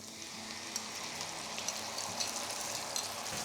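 Sausages sizzling in a pan over high flame, a soft, even hiss with faint scattered pops, fairly quiet and without speech.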